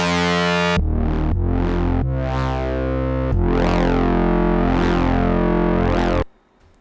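A synth-like sample reshaped with FM8 FX frequency modulation in Cubase, a loud buzzing tone that repeatedly sweeps up and down in harmonic-rich swells across several seconds, cutting off abruptly at the end.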